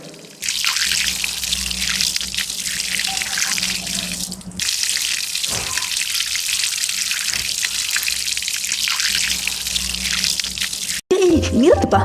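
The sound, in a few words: water running from a tap filling a vessel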